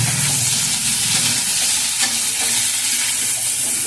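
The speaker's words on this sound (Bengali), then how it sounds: "এটাকে একসঙ্গে দিয়ে আমি একটু ভালো করে কষিয়ে নেব।" Rohu fish with mixed vegetables including bitter gourd sautés in a pan, a steady loud sizzle and hiss with occasional stirring scrapes throughout and no voices.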